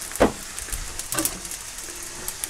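Rice frying gently in a pan for egg fried rice gives a soft, steady sizzle and hiss, broken by a few louder scraping stirs near the start and middle.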